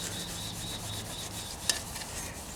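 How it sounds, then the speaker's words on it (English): Triple-aught steel wool rubs across an old aluminum fan shroud in quick, steady scrubbing strokes, a soft close rasping hiss with one sharp click near the end and no talk. "just get that triple-aught steel wool"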